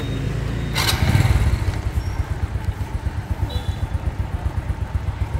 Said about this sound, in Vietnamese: Nổ máy đây em ơi.